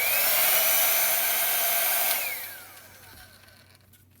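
A hair dryer blows loudly with a high whine, then is switched off and its motor winds down, leaving quiet room noise.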